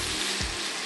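A piece of cheesesteak slider filling drops into hot frying oil with a soft thud, over a steady, close, crackling sizzle.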